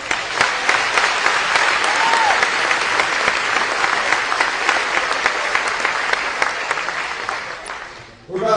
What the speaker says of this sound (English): How about a round of applause for our host tonight?